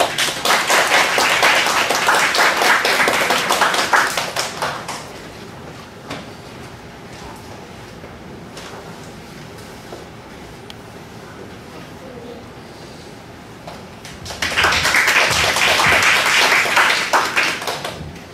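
An audience claps at a 2019 summer music concert to welcome a violin and marimba trio. A loud burst of applause opens, fades to a quiet hall, then a second strong round returns near the end.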